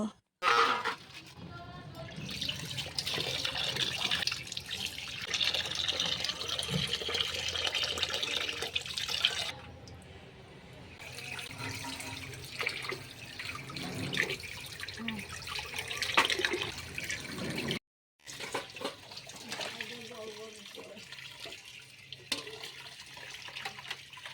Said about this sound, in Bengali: এখন আমি চিকেনগুলো জল দিয়ে ধুয়ে ভালো করে পরিষ্কার করে নেব।